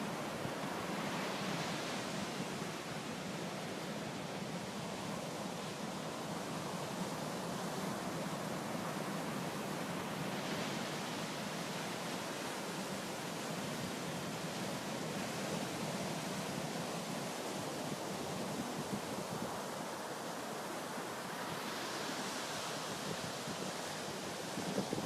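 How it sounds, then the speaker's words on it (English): Ocean waves roll and crash continuously on the beach at Ocean City, a steady broad roar with periodic swells of surf, loud and close with no talking. "the waves crashing around."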